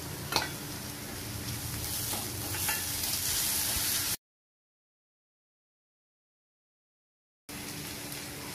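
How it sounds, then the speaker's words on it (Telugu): Ginger garlic paste sizzles and fries in a hot pan while making masala dosa filling, a steady close crackle for about four seconds, then a gap of silence before the sizzling resumes. "ఇప్పుడు అల్లం వెల్లుల్లి పేస్ట్ యాడ్ చేసుకుందాం."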